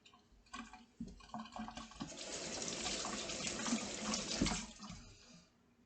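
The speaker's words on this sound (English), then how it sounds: "Wash the sink, wash the sink, wash the sink." Tap water runs steadily into a kitchen sink as it is washed, a continuous rushing splash that swells to a peak near the end before cutting off.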